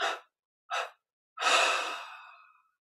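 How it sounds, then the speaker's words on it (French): A person takes a deep breath and lets it out in three close, audible breaths: two short puffs, then a long exhale that slowly fades away. No other sound is heard. "On prend une inspiration profonde, expire en 3 fois"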